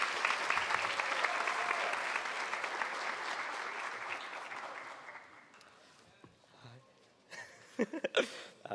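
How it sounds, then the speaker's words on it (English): A school honors night audience claps warmly at the start, the applause thinning and tapering off over several seconds, leaving scattered claps and light room sounds near the end. "please recognize her with a round of applause"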